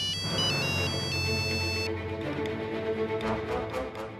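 A telephone rings in a Hindi drama scene, its electronic ringtone repeating in loud, rapid chirping bursts that stop after about two seconds and leave a quieter background.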